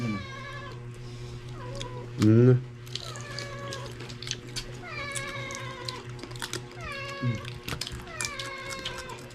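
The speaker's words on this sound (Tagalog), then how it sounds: "May pusa man to." A cat meows repeatedly in a home during breakfast, several drawn-out, rising cries spread across the clip with short gaps, one louder, strained caterwaul near the start, against a steady low hum.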